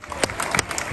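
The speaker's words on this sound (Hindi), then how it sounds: "तालियां बजानी चाहिए आप सबको अपनी हौसला अफजाई के लिए" Audience applause at a charity gala dinner for a hospital network, a dense, steady wash of clapping from a crowded hall lasting the full second, with scattered louder claps standing out.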